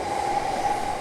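A train runs through a noisy Tokyo station platform with a steady loud rumble and a sustained metallic wheel whine, heard up close with no voices.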